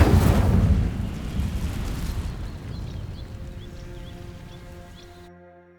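Incendio fire spell igniting dry vines in Hogwarts Legacy, a loud whooshing burst of flame that swells at once, then settles into a rumbling, crackling burn that slowly fades, with faint chirps in the background.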